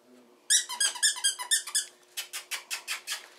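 A rubber dog toy squeaks repeatedly in quick bursts, first in irregular pairs, then in a steady run of squeaks, close and fairly loud.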